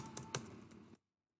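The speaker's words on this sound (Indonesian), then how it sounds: "Nah, kita ketik dah" Keys tapped on a computer keyboard while entering text into an Excel spreadsheet, a quick run of light clicks with a few sharper strokes, close up and alone, ending abruptly in silence after about a second.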